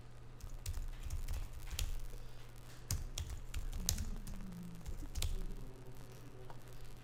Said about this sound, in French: je vais taper là mon adresse mail